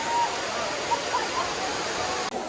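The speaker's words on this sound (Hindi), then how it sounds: "बट झरना इज नाइस।" A waterfall at a crowded tourist spot gives a steady broadband rush of falling water throughout, with faint voices of the crowd mixed in.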